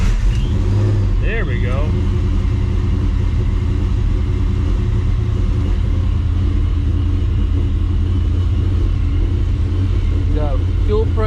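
Ford Mustang race car engine starts and settles into a loud, steady idle, with a deep continuous rumble running the whole time and a voice speaking briefly over it.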